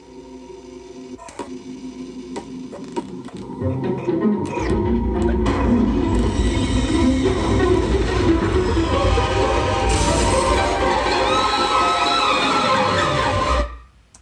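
A dense, loud wall of layered effects with strings, choir, screams and explosions: scattered clicks and hits build into a roaring, swelling mass with high shrieks, then cut off abruptly.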